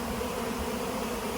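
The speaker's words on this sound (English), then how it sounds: "it looks like the bees in the tree are coming back" Bees from a hive in a tree hum as a dense, steady outdoor buzz, briefly heard up close with no voices.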